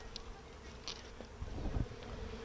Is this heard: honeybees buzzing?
yes